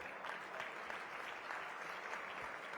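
Audience applause at a CREDAI Gujarat event in Ahmedabad, a steady wash of many hands clapping together at moderate, fairly distant level, continuous throughout with no voices.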